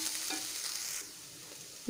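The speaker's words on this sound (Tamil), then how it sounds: "இது ஆனியன் நல்லா வதங்கட்டும்" Onion with crushed ginger and garlic sautés in a pan, a brief quiet sizzle that softens midway, with a couple of faint stirring scrapes.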